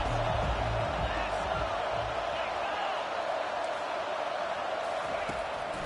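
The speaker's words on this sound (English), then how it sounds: "Here comes this home crowd as the defense tries to get off the field on third down." Home crowd roars in a college football video game during a third-down defensive stand, a steady, dense wash of cheering that holds at an even loudness throughout.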